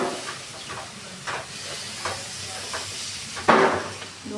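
Sliced onion sizzles in hot tempering oil in a pan, a steady soft frying hiss with occasional stirring scrapes and a louder spatter near the end.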